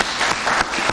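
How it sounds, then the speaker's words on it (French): Audience applause at a televised event in the Democratic Republic of Congo, a short burst of dense clapping with a few louder swells, loud and close, no talking over it. "c'est l'occasion de l'applaudir et de lui dire merci"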